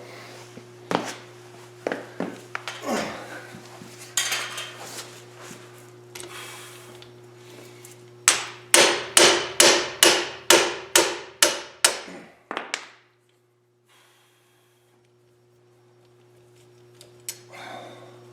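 An impact driver hammers out a rapid burst of sharp, loud rattling impacts as it removes the screw holding a brake drum to its hub. Scattered clanks and taps of handling come before it and quiet follows.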